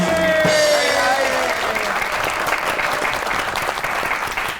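Studio audience applauding on an Urdu comedy talk show as two astrologer guests are introduced, a dense sustained wash of clapping that stays loud throughout, with a faint voice underneath near the start.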